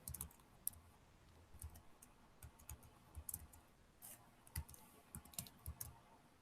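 Scattered soft clicks from a computer keyboard come in short irregular bursts while numbers are typed in, faint and close, with no talking.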